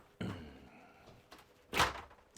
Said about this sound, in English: take a look at the drawers and cupboards down here in this master bedroom. And I'll open some of these up right quick.